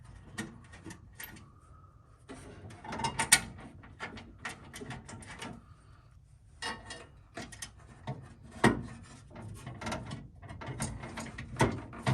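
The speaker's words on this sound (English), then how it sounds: "Just going to start off all the screws loosely." Screws being started loosely by hand into a Ford Bronco tailgate during a repair: a series of small metallic ratcheting clicks and scraping turns, close and fairly quiet, in short bursts separated by brief pauses.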